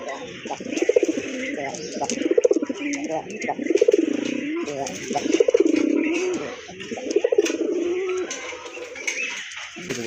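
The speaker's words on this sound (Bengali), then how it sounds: "সুইট কিউট দেখার মতো এক জোড়া চুইনা কবুতর" A pair of Chuina pigeons coo in repeated low, rolling phrases about every one and a half seconds, close by, with faint background noise and someone talking at moments.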